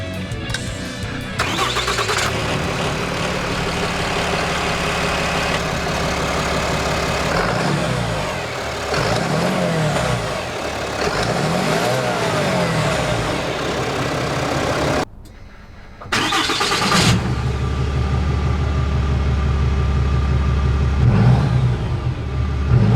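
A RAM 3500 pickup's 6.7-liter inline-6 Cummins high-output diesel engine cranks, catches and rumbles at idle with occasional revs, cuts off briefly, then fires up again with a deep, loud growl.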